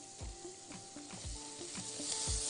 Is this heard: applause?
no